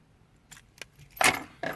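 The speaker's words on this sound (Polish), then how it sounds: "będę musiał te wszystkie klucze posegregować i zrobić sobie jeden pęk dla siebie" A bunch of camper van keys jangles close by in a few quick metallic rattles, with one brighter clinking shake near the end.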